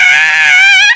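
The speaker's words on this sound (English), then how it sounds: "Sometimes you just gotta scream." A child gives a short, loud, high-pitched scream lasting about a second, strong and close, then breaks off sharply.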